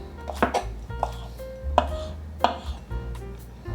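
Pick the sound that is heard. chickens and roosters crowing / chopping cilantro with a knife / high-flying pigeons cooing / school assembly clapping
chopping cilantro with a knife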